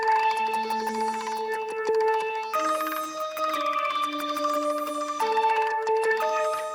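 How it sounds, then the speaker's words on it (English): A sampled sound from the free Kinetic Treats library in Kontakt plays a bright, bell-like tinkling pattern of sustained tones that shift pitch in a few steps, steady and alone without speech. "I have an instance of Kontakt with the Kinetic Treats library loaded up."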